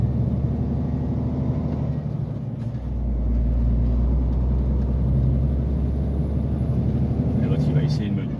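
A car overtaking on a road along the Camino de Santiago: a low engine rumble swells and holds as the vehicle comes alongside and passes nearby, over steady background road noise.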